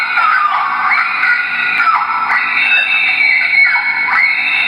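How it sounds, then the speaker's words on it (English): A Halloween toy train plays electronic scream sound effects, a run of loud, shrill, wavering screams following one another without pause at close range. "Some Halloween screams."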